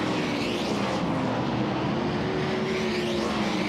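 Sprint cars roar around Williams Grove Speedway into turn 3, a loud continuous engine drone with rising and falling pitch as several cars pass close by.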